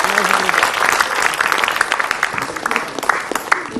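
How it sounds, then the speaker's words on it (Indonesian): Studio audience at an Islamic television program breaking into applause, brisk clapping that fills the room with some voices mixed in. "tepuk tangan buat Ustaz Maulana."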